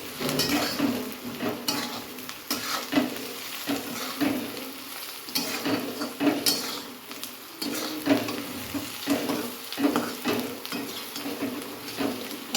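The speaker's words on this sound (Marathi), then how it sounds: "लाल तिखट हळद मीठ धना पावडर आणि कांदा लसूण मसाला हा सर्व टाकून देऊया ह्याला एक जीव करून घेऊ" A spoon stirs red chili powder, turmeric, salt, coriander powder and onion-garlic masala in a frying pan for a dried-fish and spring onion dish, with irregular close scraping and clinking over a constant light sizzle and no talk.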